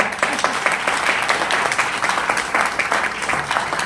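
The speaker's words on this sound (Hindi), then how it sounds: "एक बार तालियां बजाइए।" Loud, continuous applause from a sizable audience at a leadership training session, a dense wash of many hands clapping without a break.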